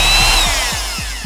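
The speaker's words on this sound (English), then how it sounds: "Let's start with the drill." Power drill running close and loud in a short continuous whir, with a steady pitch and a faint repeating low thump, heard alone with no talking.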